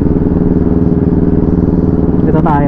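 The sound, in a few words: motorcycle exhaust sound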